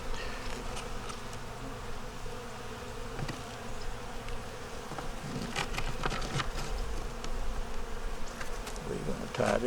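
Dense steady buzzing of honey bees at an open hive holding a yellow queen, eggs, brood and stores, close and continuous with occasional individual bees flying near.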